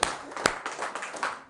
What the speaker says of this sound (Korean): 그런데 박수 한번 더 보내주십니다.